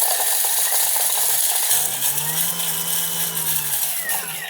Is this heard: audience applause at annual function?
no